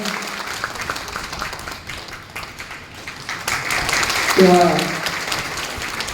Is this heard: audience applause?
yes